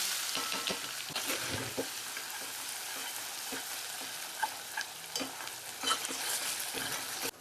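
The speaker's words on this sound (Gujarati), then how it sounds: "થોડું એવું જીરું નાખું છું અને હિંગ નાખી સૌથી પહેલા છે ને ડુંગળી નાખી." Onions frying in hot oil with cumin seeds and asafoetida, giving a steady close sizzle with scattered crackles and spoon stirring taps throughout, no voices.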